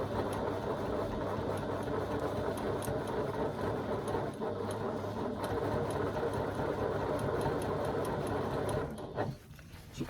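A sewing machine stitches the sides of a bag to its back, a continuous rapid mechanical whir running close and steady for most of the time before slowing and stopping near the end, with no talk.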